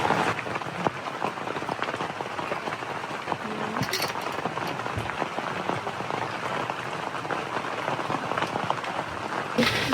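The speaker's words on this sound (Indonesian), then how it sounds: "Karena lagi hujan dan berkabut" Rain falls steadily in misty, foggy weather in Malang, a constant dense patter on nearby surfaces with a few brief knocks and rustles.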